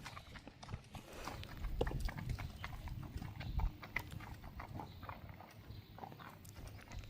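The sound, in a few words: bay gelding horse hooves clip-clopping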